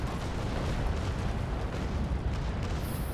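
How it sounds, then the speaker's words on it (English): A ship's cannon broadside fires in the Naval Action game, a dense continuous rumble of rolling booms that stays loud and heavy throughout, with no talk. "just fire a broadside into him as he moves past"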